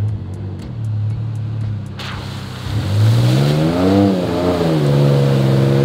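Two-wheel drive Ford Ranger pickup pushing into a minor mud pit: a quiet idle and clicking give way to the engine revving hard, pitch surging and wavering up and down as it labours loudly and close.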